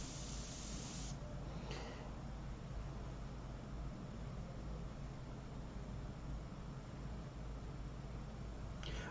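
An airbrush spraying during a pastel portrait painting on wood, giving a steady, even hiss that runs continuously and fairly quietly throughout.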